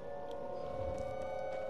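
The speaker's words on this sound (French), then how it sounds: "Pourquoi des sirènes? Bah ça va être la nuit." Warning sirens wail in the video game Dying Light 4, a steady, droning tone held throughout at moderate loudness, with faint scattered game sounds underneath.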